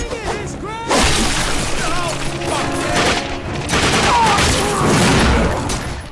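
Dense gunfire in the video game The Darkness II, sustained bursts of shooting with shattering impacts and crashes filling the whole stretch, loud and continuous, with a voice talking over it.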